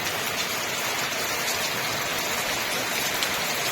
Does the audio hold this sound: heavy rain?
yes